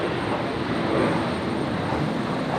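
Qatar Airways Airbus A380 departing Brisbane Airport, a broad, steady roar of jet engines heard from a distance, constant and unbroken with no talking.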